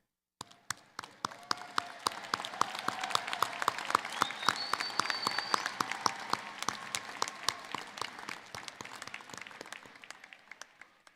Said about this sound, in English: please stand and join me in giving a round of applause for our incredible faculty and staff